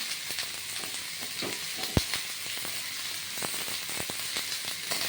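Chopped ash gourd sizzles in a hot pan for a Bengali shukto, giving a steady close frying hiss with scattered pops and spatula clicks and one sharper knock near the middle.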